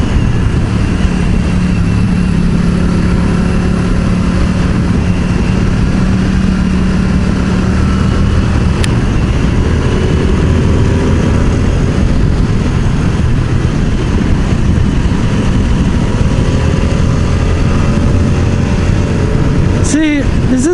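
Moto Guzzi V100 motorcycle cruising at steady speed, a continuous low engine drone blended with heavy wind rush that runs the whole time, with a few brief buffets near the end.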